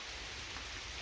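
Steady rain falls on a garden, a continuous even hiss of drops with no breaks or other sounds.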